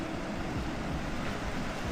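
Alpine river in the Dunajec area flowing past, a constant close wash of rushing water with no pauses and no voices.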